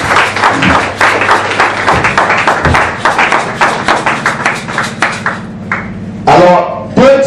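A church congregation applauds in sustained, dense clapping that stays loud and steady throughout, with some voices mixed in and a few sharper accents near the end.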